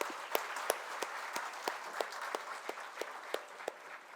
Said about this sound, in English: requesting all of you to carry it with the loud round of applause